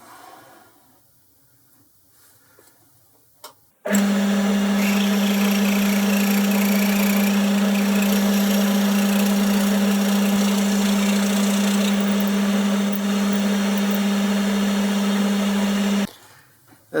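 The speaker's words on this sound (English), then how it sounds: "Now I'm drilling the tap-in size for a 5/16 BSF" A drill bores a tapping-size hole for a 5/16 BSF thread, running as a loud, steady motor whine with a strong even hum for about twelve seconds, starting and stopping abruptly, with no talk.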